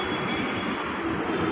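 A Hyderabad metro train pulls into a station, producing a steady, close rumble of rolling wagons with a thin metallic wheel squeal over it, continuous and unbroken with no voices.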